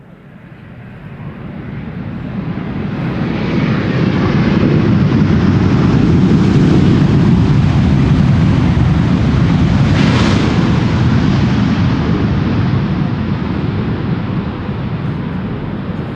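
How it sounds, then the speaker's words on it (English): An airliner landing at Schiphol Airport with thrust reversers makes a loud, sustained jet roar that swells over several seconds, holds at full strength and then eases slightly, heard alone without talk. "If you don't see a wheelie, you often hear the reversers."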